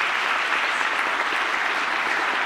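A concert audience applauds the musicians at a live tribute performance, a dense, steady wash of many hands clapping close and loud throughout, with no talk over it.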